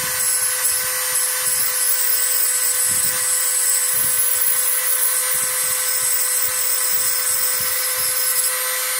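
A Dremel rotary tool grinding the edge of a glass piece for flintknapping, a constant high whine with short bursts of rougher grinding contact at irregular intervals, close up and steady, no speech.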